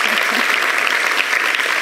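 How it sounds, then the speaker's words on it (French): A studio audience on a Beninese talk show breaks into dense, steady applause, loud and continuous for a short burst. "Quand même, ça s'applaudit"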